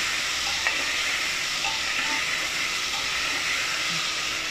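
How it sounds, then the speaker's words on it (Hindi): Jackfruit and potato sabzi frying in a pan, a steady broadband sizzle and hiss with faint occasional stirring scrapes, close and continuous without speech. "अब ये भूजता रहेगा।"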